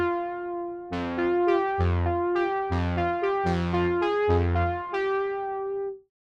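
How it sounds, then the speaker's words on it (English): Analog-style saw synth lead from the Horizon pack, its filter and fine tune modulated, plays a dry melodic phrase of bright sustained notes with rhythmic low chord stabs beneath, ending on a held tone. "I'm going to use this synth from the Horizon pack, which is a saw synth with some modulation to the filter and the fine tune"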